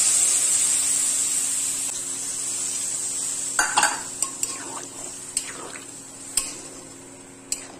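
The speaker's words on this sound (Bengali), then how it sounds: "জিরে বাটা দিয়ে জল ঢেলে দিই" Cumin paste and greens in a pan sizzle steadily as water is poured in, with a bright continuous hiss and a few sharp clinks of a spoon against the pan partway through.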